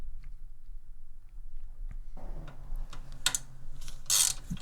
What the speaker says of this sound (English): my torque wrench is 1/4 inch drive and my ratchet here is 3/8 drive